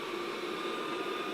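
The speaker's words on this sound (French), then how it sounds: "Il va aspirer toute la maison." A robot vacuum cleaner runs indoors with an even, continuous whirring hiss that holds at a steady level throughout.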